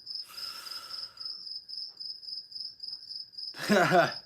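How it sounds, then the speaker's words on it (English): Crickets chirping outside near an open garage, a steady high pulsing trill that runs right through the moment, with a voice briefly heard near the start and again at the end. "let me see if I can close the garage door and quiet down those crickets"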